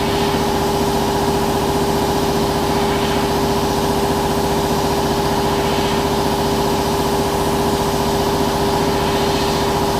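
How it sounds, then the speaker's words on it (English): A good-sized air compressor runs steadily after kicking in, a loud continuous motor drone with a firm low hum and a stable tone, alone and unbroken throughout, with no talking. "the compressor's finally kicked in"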